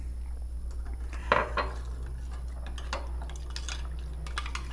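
Sapólio cleaning powder is stirred into a cup of water in a container, giving faint, scattered clinks and light scraping against a quiet, humming background.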